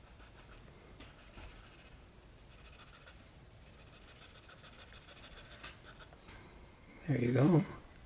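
A pencil scratches and rubs softly over paper while shading a charcoal portrait sketch, a faint continuous rasp that ends in a louder, brief scribble near the end, with no talk over it.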